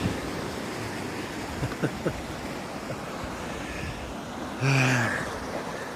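Ocean waves wash in a steady, rushing roar of surf, with a brief tonal whine partway through.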